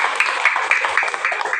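Audience applause at a Saturday gathering in Nueva Ecija, a continuous, fairly close patter of many hands clapping with no pauses over its short length.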